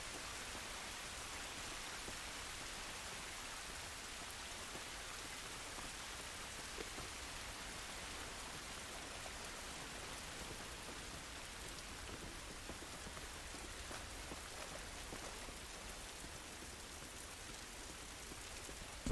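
Steady rainfall from The Last of Us hisses evenly and continuously in the game world, a dense unbroken wash of falling drops with no talk over it.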